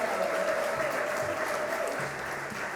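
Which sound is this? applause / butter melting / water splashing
applause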